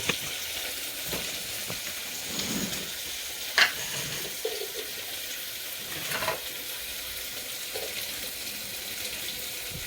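Onion and spices frying in a pan for mutton pulao, a steady low sizzle with occasional scraping stirs and a few clinks, close and moderately loud, no talking.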